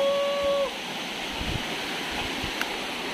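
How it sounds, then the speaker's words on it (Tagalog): Bangka Bangka waterfall in Pagbilao, Quezon, gives a constant soft rushing hiss of falling water, moderately faint and steady, with a brief tone at the start. "Dito na tayo sa falls."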